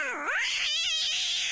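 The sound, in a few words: cat yowling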